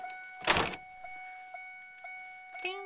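A car's warning chime dings in an even, repeating pattern about twice a second, each tone clear and close. It rings just after a loud thud near the start, with faint movement sounds in the cabin.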